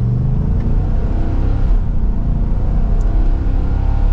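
A 2023 Ford F-250 Tremor pickup engine drones loudly and steadily, with a low rumbling tone that rises slightly as it accelerates from second gear in manual mode.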